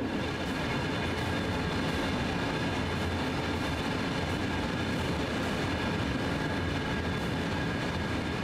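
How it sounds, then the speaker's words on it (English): Heavy freight locomotives straining up Sand Patch Grade in Train Sim World 2 produce a dense, continuous low rumble and engine drone with faint rail clatter, steady and unbroken throughout. "the locomotives are really struggling with this cargo"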